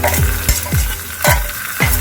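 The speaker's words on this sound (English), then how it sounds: "When you fry this in a ghee, it gives a very nice aroma" Curry leaves, crushed black pepper, cumin seeds and garlic fry in ghee for horse gram rasam, a loud close sizzle broken by rhythmic spoon strokes against the pan, with no talking.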